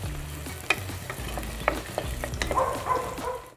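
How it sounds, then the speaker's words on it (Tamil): Onion and curry leaves sauté in a pan for a chicken gravy, a close steady sizzle broken by repeated spatula scrapes and stirring knocks, with no talking. "ஆனியனை ஒரு ரெண்டு நிமிஷம் நல்லா வதக்கிட்டு இருக்கேன்."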